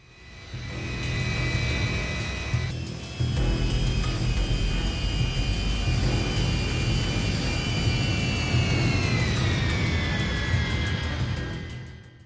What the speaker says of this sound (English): Flight 901 begins taxiing down the runway